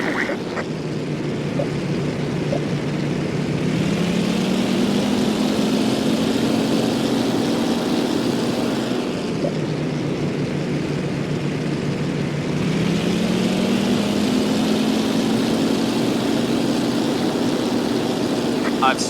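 A steady engine drone hums throughout, its pitch slowly rising and dipping in waves, loud and continuous like propeller aircraft passing, in the Xbox 360 game Damage Inc.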